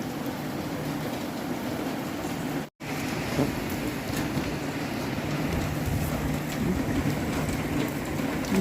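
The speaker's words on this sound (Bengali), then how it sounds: "এবারে যতক্ষণ বৃষ্টি চলবে আরও হয়তো পরিমাণ বাড়বে" Heavy rain during Cyclone Remal amid flooding and gusty wind: a dense, continuous hiss of rainfall with a low steady rumble underneath, interrupted by a momentary break.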